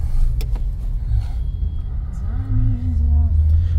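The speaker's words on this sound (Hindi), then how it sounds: "ट्रैफिक बहुत भयंकर" Mumbai road traffic from inside a car: a steady low engine rumble with muffled road noise, close and continuous, with a faint tonal whine rising near the end.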